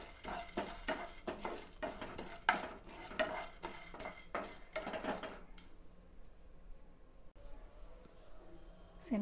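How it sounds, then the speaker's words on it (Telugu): Chana dal frying in hot oil is stirred briskly with a utensil, making a rapid run of scraping, rattling strokes over a soft sizzle for about five seconds before the stirring stops and only a quiet hiss remains. "ఆయిల్ వేడయ్యాక ఒక 50 గ్రామ్స్ శనగపప్పు తీసుకుంటున్నాను. దీన్ని కొద్దిగా వేగనివ్వాలి."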